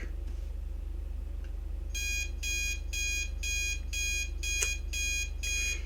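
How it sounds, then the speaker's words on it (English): Alarm clock in the Snoot Game mod blaring with rapid repeated electronic beep bursts, steady and fairly loud, over a low background hum with no talking. "Her alarm was blaring."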